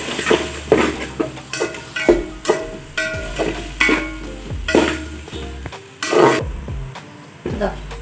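Curry leaves and rice masala fry in a pan while a spoon stirs and scrapes through them in repeated bursts, with soft sizzling and metal clinks close by, and a voice speaking intermittently over it.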